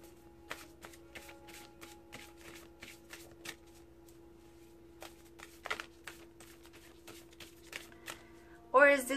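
Oracle cards are shuffled during a love reading, producing a string of soft, rapid papery taps and flutters over a low steady hum, ending in a louder handling rustle.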